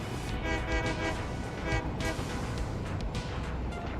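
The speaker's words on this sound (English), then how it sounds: "Give it a little honk honk." A train horn in the video game Satisfactory honks steadily for about four seconds, a loud, sustained, slightly wavering tone with faint rumbling underneath and no talking.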